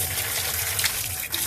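Water from a hose or pipe splashes onto village plants, a loud continuous gushing spray lasting the whole moment with no voices.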